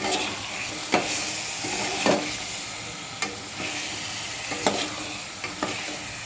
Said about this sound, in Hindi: तेल इसमें फेंकने लगा, मसाला एकदम पक गया